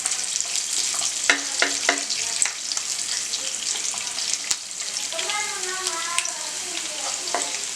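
Cumin and sliced garlic fry in hot oil for a quail kadai roast, giving a steady close sizzle with occasional sharp crackles and light stirring scrapes throughout.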